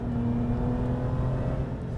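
Car supercharger whining while driving on the road, a steady mid-pitched whir over constant engine and road noise, no voices.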